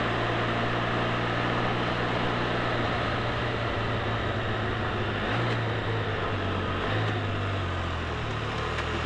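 A Can-Am F3 Spyder three-wheeled motorcycle shifting down on its own while riding, a loud steady engine and wind roar with low engine tones stepping and changing pitch as the gears drop.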